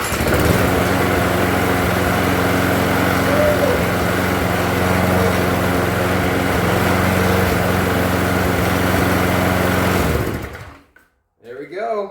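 A small engine with a primer bulb, just recovered from a carburetor cleaning, catches after a pull start and runs at a steady loud buzzing drone before cutting off abruptly, followed by a brief voice.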